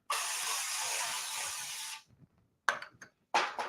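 A can of cooking spray hisses onto a cooking board before cauliflower is added for smoked buffalo ranch cauliflower. One long, close spray of about two seconds is followed by two short bursts.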